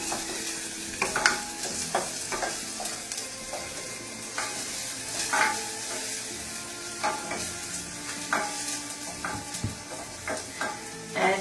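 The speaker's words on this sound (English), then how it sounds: "You're just going to stir these around maybe for about a minute or two till they become translucent" Shallots fry in oil in a pan while being stirred, giving a continuous close sizzle broken by repeated clinks and scrapes of the utensil against the pan at an irregular pace.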